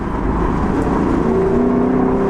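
A 2025 Lexus LC 500 Convertible engine roars steadily nearby, a loud throaty drone with a rising whine as it revs.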